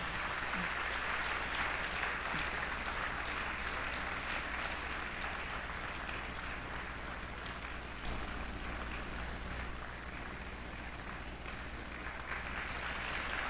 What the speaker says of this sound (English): Please continue to clap.